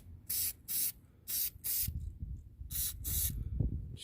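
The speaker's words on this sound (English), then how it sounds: "then you spray your developer on it, and it'll show you where the crack is" Crack-detection developer sprayed from an aerosol can onto a cleaned hydraulic cylinder from a Cat front end loader, four short hissing bursts followed by two more after a pause, close and loud over low background rumble.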